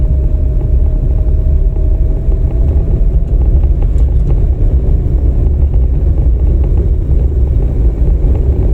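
Car engine with steady low rumbling drone at high level throughout, a driving student pressing the accelerator during a lesson, with no sharp rev peaks.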